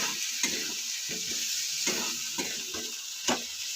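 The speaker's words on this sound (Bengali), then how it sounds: "এভাবে ভালো করে কষিয়ে নিতে হবে।" Masala and potatoes being stir-fried in a pan, with repeated scraping stirring strokes over a steady hiss of frying oil, close and fairly quiet, with no talking.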